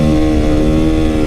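A motorcycle engine revs hard and steady in second gear as the throttle is cranked open for a torque wheelie, a loud, close, continuous drone with no clutch pop.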